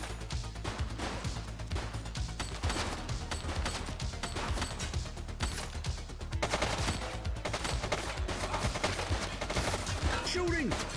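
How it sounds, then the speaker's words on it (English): Rapid gunfire in the police game The Precinct, dense overlapping bursts of shots running steadily for the whole stretch, loud and close, with voices calling out underneath. "Shooting!"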